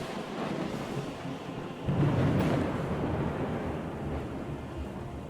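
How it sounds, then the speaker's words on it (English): Thunder rolls through a stormy scene, a steady windy rumble with a louder low swell about two seconds in that lingers before easing back, no voices present. "After a moment, another roar of thunder."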